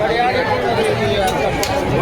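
Dense crowd chatter at a buffalo fair, a close, continuous babble of many voices with footsteps and bustle mixed in, while a nearby voice speaks over it.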